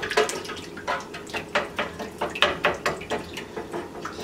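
Candied yam mixture with cinnamon being stirred with a spoon, giving a steady series of wet scraping, sloshing strokes in an even rhythm, close and fairly quiet with no talking.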